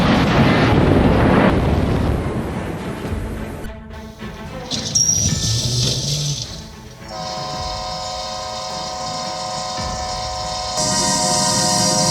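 A train rumbles past loudly with wind buffeting, then a long sustained horn blares, its steady tones continuing for several seconds.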